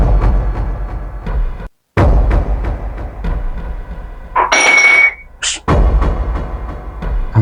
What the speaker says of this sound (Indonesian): Kayaknya ada suara gelas guys